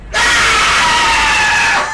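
A monster in the horror game The Observed lets out a loud, sustained, harsh scream lasting nearly two seconds, starting abruptly and cutting off at the end.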